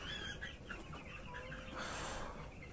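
Eight-day-old broiler chicks being weighed in a poultry shed, a faint, continuous chorus of soft clucks and peeping chirps in quick repeated bursts with no talk.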